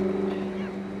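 Boat engine in a video game, a steady droning hum with a strong low tonal core, heard alone over a short stretch without talk.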